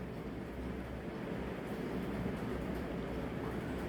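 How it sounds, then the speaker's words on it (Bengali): A moving train rumbles low and faint as a steady background effect in a narrated horror story, a continuous rolling drone with no speech over it. "ততক্ষণে ট্রেন চলতে শুরু করে দিয়েছে।"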